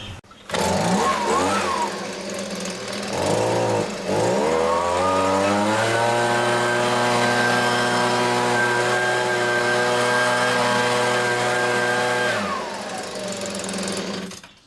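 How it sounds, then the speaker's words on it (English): A Husky leaf blower engine runs after an impeller replacement. It starts close and loud, revs up unevenly, then holds a steady high whine for several seconds before dropping back at the end. "Well, it's definitely blowing some air now. Well, let's give it a bit of a try out here."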